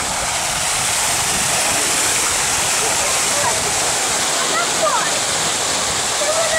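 Water pours down a cascade fountain in Kharkiv, a loud, unbroken rushing roar that fills the whole stretch without pause.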